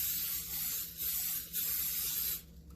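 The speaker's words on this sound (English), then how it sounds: "I'm gonna spray it with a little cooking spray." Cooking spray hisses steadily from an aerosol can into a pan for an eggless cheesecake, a continuous close spray lasting over two seconds with slight surges before cutting off.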